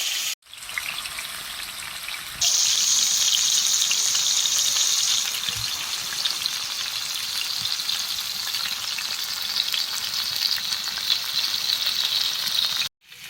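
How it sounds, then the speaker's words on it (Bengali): Chicken kathi kabab skewers, five at a time, fry in hot oil with a loud, steady sizzle that swells partway through and holds for over ten seconds, with no voices over it. "আমি একবারে 5টি করে কাঠি দিয়ে ভেজে নেব শিক কাবাবগুলো।"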